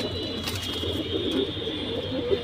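Silver pigeons kept as a pure pair coo softly in a loft, low repeated throaty calls close by over a steady background hum, with no talking.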